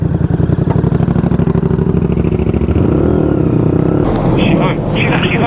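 A motorcycle engine running steadily and loud nearby, a rough clattering idle with slight revving, with a voice briefly audible near the end.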